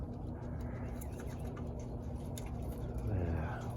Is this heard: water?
no